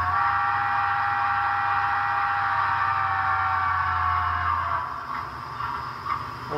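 Steam whistle from a Broadway Limited HO scale USRA Light Pacific model locomotive with a Paragon 3 sound decoder, one sustained blast that holds steady and then tapers off near the end, close and loud with no talking.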